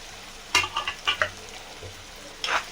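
Chopped green chillies stirred in a frying pan with paste, giving a soft sizzle and a few short bursts of spatula scraping, close by with pauses between strokes.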